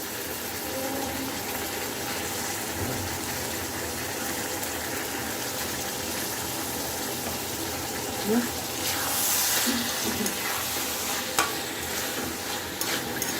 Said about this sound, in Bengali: এখন আমি দিব আগে থেকে কেটে রাখা সে আলু, কিউব করে কেটে রেখেছিলাম আলু দিয়ে দিচ্ছি